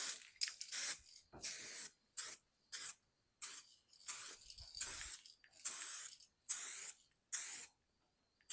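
Clear coat sprayed from an aerosol can onto a restored plastic headlight, about a dozen short, sharp hissing bursts in a steady rhythm with silent gaps, close up and alone.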